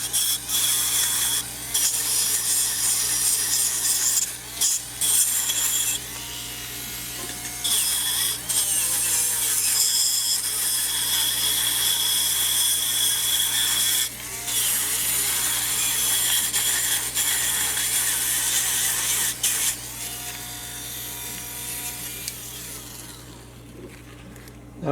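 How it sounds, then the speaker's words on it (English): Steady high-pitched whir of a small rotary sanding tool lightly sanding a carved butternut wood face, continuous with brief pauses and a faint background hum. "Just this light sanding."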